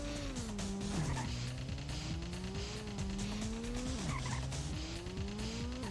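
A race car in the PlayStation game Ridge Racer drives with a loud continuous engine whine that rises and drops with gear shifts, while tires squeal and skid through corners.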